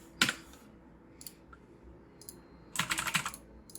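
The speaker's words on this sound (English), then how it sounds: "Type text right here, just gonna fix that." Fingers tap on a computer keyboard while a login page is being built, in two quick clusters of clicky keystrokes, one brief and one longer, with quiet pauses between.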